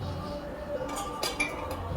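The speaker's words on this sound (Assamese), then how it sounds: "আকৌ ঢাকোন মাৰি দিম।" A metal lid lands back on a cooking pot of boiling fish curry with potatoes, several light clinks and rattles bunched in the second half over a soft background hiss.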